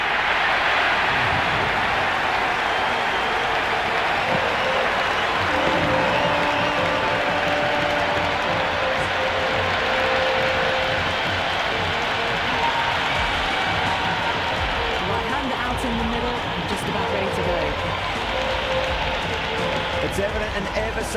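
A stadium crowd cheers steadily at a cricket match in a video game at Eden Gardens, a dense, loud roar that holds for the whole stretch, with commentary voices talking over it.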